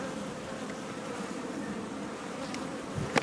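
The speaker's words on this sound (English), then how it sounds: "And the bees." Honeybees at their hive on a winter day, a dense steady buzzing drone from many insects close by, uninterrupted and even for the whole span.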